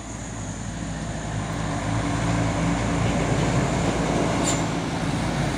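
An ALS trans-Sumatra intercity bus rumbles past on the road, a loud, steady low engine drone that builds slightly and holds close throughout, with no talking.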